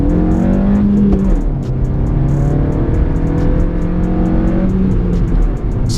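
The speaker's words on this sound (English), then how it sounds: "So a little first and second gear pull for us." An Audi A1 1.4 Turbo S-line pulls hard through first and second gear, its engine note rising loudly in pitch, dropping at the gear change, then climbing again, close and continuous.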